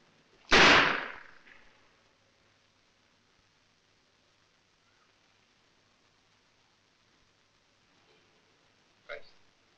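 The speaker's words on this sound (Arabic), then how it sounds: "هضرب على طول. مسدس جامد اهو." A pistol fires one loud, sharp shot close by, followed by a long near-silence and a smaller crack near the end.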